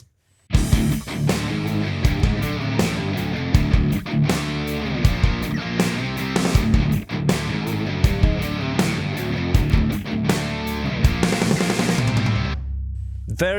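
Distorted electric guitars drive a loud, dense rock mix with steady drums, cutting off abruptly near the end.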